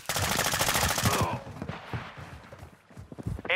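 Rapid automatic gunfire from a Call of Duty multiplayer match, a fast machine-gun burst up close, followed by scattered shots and footsteps beneath game voice announcements.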